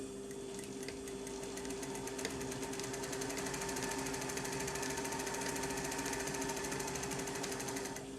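A domestic sewing machine runs a steady fast zigzag stitch through tailoring jacket canvas, its needle clatter rapid and even, close and loud with a constant motor whine and no talking.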